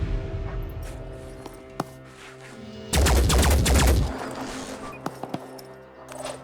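A loud one-second burst of rapid gunfire from a weapon in the Phoenix Point tactical game cuts in midway, set against quiet ambient hum with a few isolated clicks and taps before and after.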